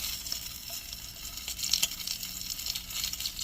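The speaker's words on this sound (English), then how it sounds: "I also like to brown the sides of my roast." A pot roast browning in a hot pan gives a steady, close hiss of sizzling fat with small crackles, continuous and unbroken, with no voices over it.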